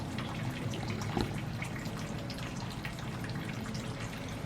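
A garden hose sprays over ferns and other plants, giving a steady, rain-like hiss of falling water with light drips and splatter throughout, moderately quiet and unbroken, no talking.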